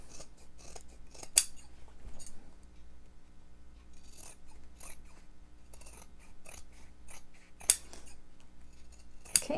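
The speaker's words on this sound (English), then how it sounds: "I'm going to trim the seam allowances down to about an eighth-ish of an inch seam allowance" Sharp scissors trimming fabric seam allowances on a sewing wristlet, giving short snipping cuts with a few louder crisp snips spaced apart over a quiet indoor background.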